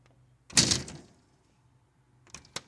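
An old, beat-up discarded door fitted with a homemade latch handle swings shut with a single solid thunk, followed by a quiet pause and a couple of lighter knocks and clicks near the end.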